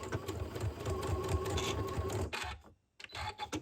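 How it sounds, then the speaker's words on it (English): A sewing machine runs in quick rhythmic bursts while back stitching a Christmas stocking, stopping briefly near the end before starting up again close by. "before I get to the very edge, I'm going to back stitch a few stitches to secure my stitches in place."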